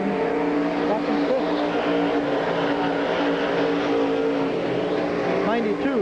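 Race cars run at Silver Spring Speedway, a dense pack of engines roaring with overlapping revs that sweep up and down. A commentator talks over the continuous noise.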